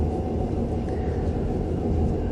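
Steady low rumble inside a moving train in Russia, a continuous dense roar with no clear breaks, close and fairly loud.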